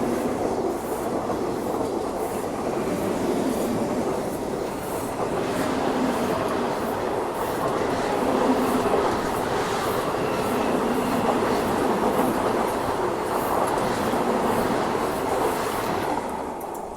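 An Indian Railways train passes close by near Katra, held for the Katra–New Delhi Vande Bharat Express, a loud steady rolling rumble with clattering wheels and faint squeals throughout.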